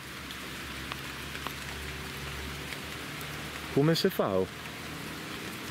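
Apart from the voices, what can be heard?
heavy rain falling outdoors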